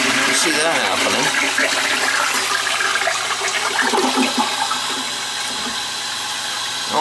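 A leaking toilet flushes with a loud rushing gush that settles into a steady refill hiss, with a voice talking over it.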